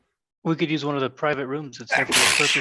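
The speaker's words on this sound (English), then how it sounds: "that sneeze sounded so violent" A single forceful sneeze bursts out loudly at the end of a stretch of ordinary conversation, its sharp noisy explosion following a person speaking.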